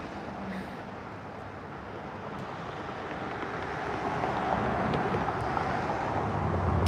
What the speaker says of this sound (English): all it is cars going by